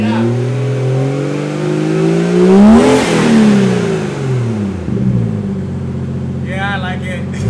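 A BMW B58 engine with a muffler-delete exhaust, in sport mode, revs up to a loud peak and falls back to a rumbling idle, with voices talking over it near the end.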